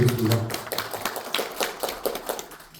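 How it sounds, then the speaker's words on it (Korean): Audience at a political rally in a Cheongju hall breaks into applause, a dense patter of many hands clapping close by, mixed with a few voices throughout the short burst. "큰 박수 부탁드리겠습니다."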